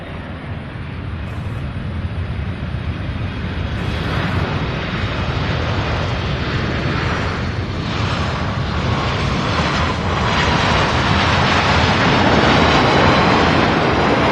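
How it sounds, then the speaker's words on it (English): A Boeing 767 arriving from Phoenix lands at Louisville International Airport. Its broad, steady jet roar fills the clip and grows slightly louder toward the end, with no voices. "So we have a 767 out of Phoenix landing right away."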